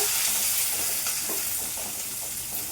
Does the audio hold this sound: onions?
yes